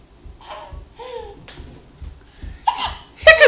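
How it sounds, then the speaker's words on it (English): A child hiccups in short, sharp bursts, several spaced through a few seconds, with voiced, laugh-like squeaks between them and a louder, giggly burst at the end. "Are hiccups funny?"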